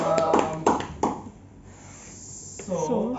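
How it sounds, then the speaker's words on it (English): A few scattered hand claps from a small classroom group during a microteaching session, brief and close, mixed with voices and a cheer, then fading into quiet murmur. "give applause to Eka, Panas, and Bayu"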